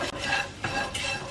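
Turmeric powder stirred as it fries in a hot pan for broken wheat fried rice, a continuous scraping and sizzling with steady stirring strokes, close and fairly loud, with no voices.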